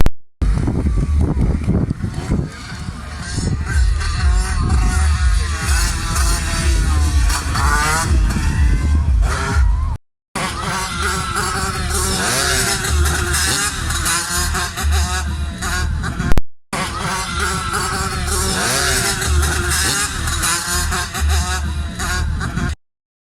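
A small motor engine revs hard and steadily at a race meeting, its loud buzzing drone rising and falling across three stretches split by brief cuts.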